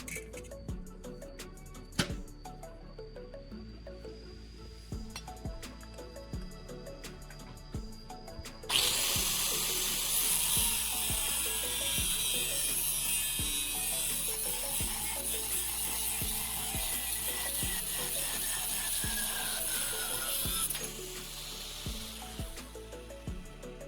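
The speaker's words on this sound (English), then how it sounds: "I take a piece of flat steel bar. I measure and cut a small rectangular section." Flat steel bar is cut for the base plate of a homemade steel bending tool: quieter workshop knocks give way to a loud, steady, hissing cutting roar that holds for over ten seconds, with no talk.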